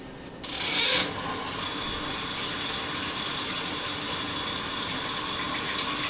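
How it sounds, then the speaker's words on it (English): Tap water runs steadily into a kitchen sink during a hand wash while cooking pork chops, with a brief louder splash at the start and then an even rushing flow that continues to the end, close by with no voices. "let me just wash my hands real quick"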